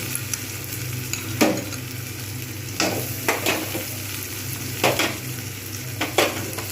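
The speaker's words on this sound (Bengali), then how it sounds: "আদা রসুন পেস্ট এগুলো সবগুলো কষিয়ে নেব" Chilli, turmeric and ginger-garlic paste sauté in hot oil for a Bengali mung dal with rohu fish head, giving a constant sizzle broken by occasional stirring scrapes against the pan, with no talking.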